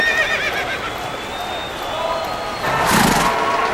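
A wild horse at Cape Toi, Japan, whinnies with a shaky, wavering call, followed by a louder burst of noise near the end.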